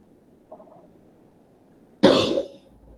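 A single loud, harsh cough bursts out close to the microphone after a brief soft throat noise, in an otherwise quiet room.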